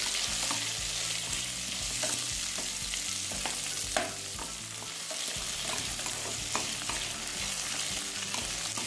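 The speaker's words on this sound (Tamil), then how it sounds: "தக்காளியும் சேர்த்து நல்லா நம்ம வதக்கிக்கலாம்." Chopped tomatoes sautéing in a hot pan for amaranth thuvaiyal, a steady close sizzle and frying hiss with scattered light stirring clicks throughout, no talking.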